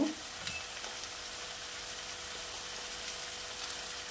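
Prawns fry in oil with turmeric, salt and chili powder for a Bengali prawn curry, a steady close sizzle with a few soft scraping stirs in the pan and no talking.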